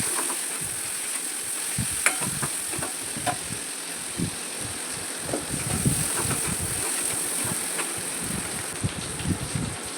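Vegetables and boiled peas sautéing lightly in oil in a kadai for a vegetable soup: a continuous moderate sizzle broken by frequent crackling pops and stirring scrapes, steady throughout with no voices.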